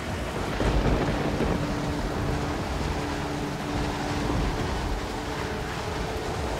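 A storm with heavy rain and thunder fills the scene in a steady, loud wash of noise with low rumbling underneath, and no voices are heard.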